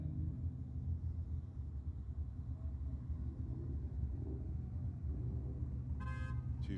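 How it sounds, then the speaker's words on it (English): A Holden VK and a Ford XA Falcon, Australian muscle cars, idle at the start line of the drag strip at Sydney Dragway with a steady, deep engine rumble. A short horn-like toot comes near the end. "Two very nice examples of Aussie muscle car on the start line here."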